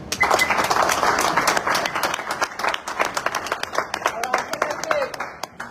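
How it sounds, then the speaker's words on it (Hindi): A crowd claps loudly in sustained applause at a car delivery event, gradually thinning into scattered claps, with voices murmuring underneath. "बहुत बढ़िया, जोरदार तालियां"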